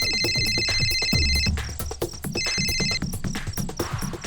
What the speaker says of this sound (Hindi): फोन की घंटी सुनाई नहीं दे रही, आके उठा लो ना